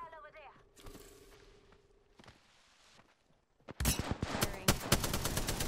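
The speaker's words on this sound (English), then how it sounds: "I had a sniper shot." After a quiet stretch with faint game noise and a brief voice, a loud, sharp burst of gunfire erupts in Apex Legends, with a crack followed by rapid, ringing shots and echoing impacts that fill the last two seconds.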